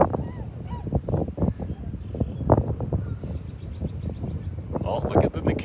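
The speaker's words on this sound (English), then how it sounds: "Oh, snow geese." Snow geese honk in a busy flock near a restored old farmhouse in the early morning, repeated calls rising over steady outdoor background while someone talks throughout.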